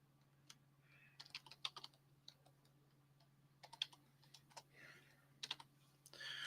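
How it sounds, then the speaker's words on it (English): Computer keyboard typing during a collaborative art stream while entering Japanese characters: quiet, irregular bursts of clicking keystrokes over a steady low electrical hum. "you can see I'm typing in a letter, and then I type in the other letter"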